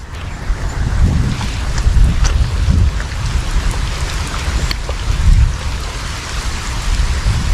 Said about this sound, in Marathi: पाऊस काही कमी होत नाही आहे